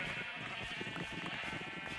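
Several Minecraft sheep bleat in overlapping, repeated calls, steady and close, with no talking over them.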